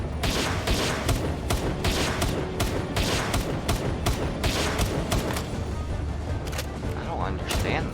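Rapid video game gunfire crackles in dense bursts, sharp repeated shots layered over a busy background with a voice speaking at points.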